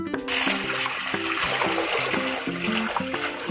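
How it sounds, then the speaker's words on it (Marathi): Water pouring and splashing into a bowl, a continuous close rush with gurgling tones over a few seconds, accompanied by background music. "आता ह्या बाऊलने मी दोन बाऊल पाणी घेते"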